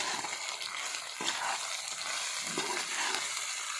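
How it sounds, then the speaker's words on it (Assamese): Jaggery being stirred into a sweet bogori (Indian jujube) pickle in a pan over a low gas flame, with continuous scraping and a soft, steady sizzle close by and no talking. "মই এতিয়া লৰাই থাকিম এইখিনি।"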